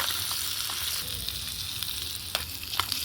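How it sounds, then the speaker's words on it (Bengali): Ginger garlic paste fries in a hot pan as a steady, bright sizzle, continuous and close, with a few small pops and crackles and no talking. "দিয়ে দিয়েছি আদা রসুন পেস্ট। এটা একটু ভাজা হতে থাক"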